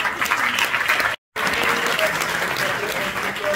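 Sustained audience applause fills the hall at the FEFFS 2024 film festival closing ceremony, steady and loud with a brief cut-out partway, a voice faintly under the clapping.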